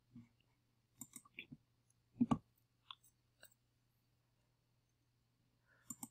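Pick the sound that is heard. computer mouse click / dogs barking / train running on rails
computer mouse click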